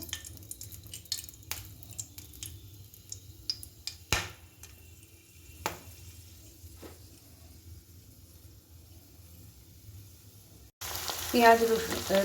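Whole garam masala spices, cardamom and cloves, crackle and sizzle faintly in hot oil, with sparse pops and a quiet cooking hiss, then a sudden louder burst of sizzling near the end.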